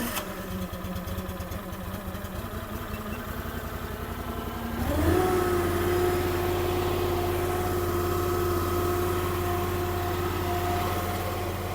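A small gasoline engine on a mini skid steer catches and settles into a steady idle; the cranking and low chug before about five seconds give way to a constant, fairly loud running hum with a clear tone.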